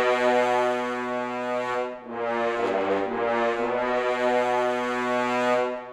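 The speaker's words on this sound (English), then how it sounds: "So these 12 horns and it sounds like this." Twelve horns playing triple forte from a Cinebrass sample patch, a sustained dark brass chord that swells, dips briefly, then builds again in a loud crescendo, heard alone without talk.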